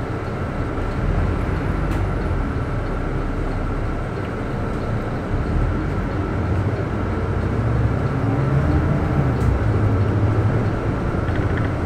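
A Transperth electric train pulls away from a station, producing a steady, broad rumble that holds at an even level throughout and swells slightly toward the end.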